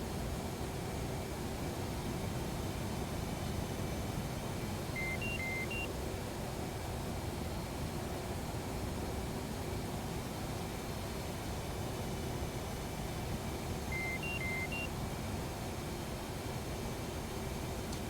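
Cockpit warning beeps sound in the DCS World flight simulator: two brief clusters of short electronic beeps, about nine seconds apart, over a steady background hiss of cockpit noise.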